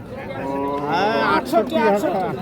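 A young cow moos loudly and close by at a cattle market in a long drawn-out call, followed by shorter lowing sounds.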